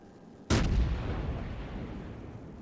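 Battleship main guns fire in a naval combat video game: one sudden loud boom at close range, then a long rumbling tail fading over about two seconds, no voices.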